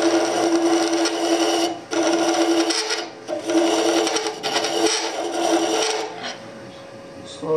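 A burr scraper shaves wood on a spinning lathe, giving a loud, steady rasping hiss that breaks off briefly twice and then returns, with the cut easing toward the end.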